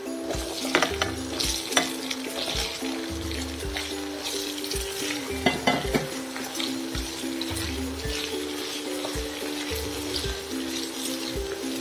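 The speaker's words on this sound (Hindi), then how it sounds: "अब हम इसमें ये कटे हुए आलू डाल देंगे।" Steady sizzling of cut potatoes frying with onion, garlic and ginger in a pan, with scraping stirs and occasional clinks of a utensil throughout; no talking.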